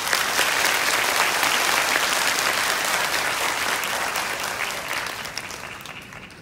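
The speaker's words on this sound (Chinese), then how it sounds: "请各位热烈掌声欢迎部长。" A hall audience at the Taiwan Railway 131st anniversary celebration applauds warmly to welcome the transport minister, a loud sustained round of clapping that slowly tapers off toward the end.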